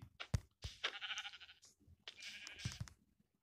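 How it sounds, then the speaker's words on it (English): Sheep in Minecraft Pocket Edition bleating, a few short nasal game-sound bleats in quick succession, clear and close against near silence. "Do you like this sheep?"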